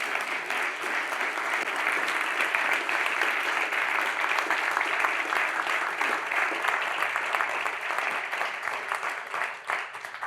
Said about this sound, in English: to please give her a huge hand of applause